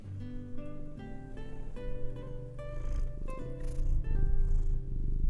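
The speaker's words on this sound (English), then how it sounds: "Purr in the microphone." A cat purrs close to the microphone during a cozy crochet livestream, a steady low rumbling purr that swells and eases with each breath, loud and continuous over about five seconds with no talking.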